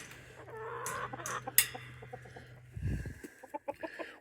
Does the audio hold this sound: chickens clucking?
yes